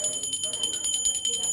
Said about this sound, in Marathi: मी घंटी वाजवत धूप दाखवली देवाला